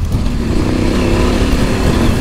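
A Husqvarna 701 or KTM 790 rally motorcycle with an Akrapovič exhaust line, riding at very low speed, gives a steady, dense engine and exhaust drone that stays loud and close with no talking.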